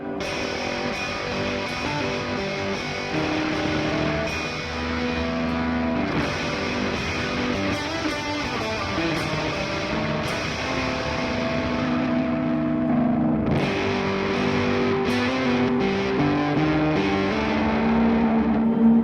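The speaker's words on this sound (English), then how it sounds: "Using an EQ pedal is also a really cool way to get really creative fuzz sounds." Fuzzed electric guitar run through an EQ pedal set to 800 Hz and 6.4 kHz, with a nasal, filtered tone, sustained distorted chords ringing loudly and shifting every few seconds, no talking.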